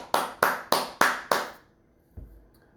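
A man claps his hands five times in a quick, even rhythm, sharp and close, followed by near silence with a faint low thump.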